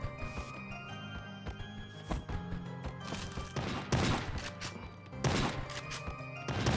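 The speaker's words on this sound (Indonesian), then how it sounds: "Kita pakai shotgun." Heavy shotgun blasts and other gunfire from the video game Sausage Man boom through a busy game soundtrack, several loud close shots spaced a second or so apart over constant background noise.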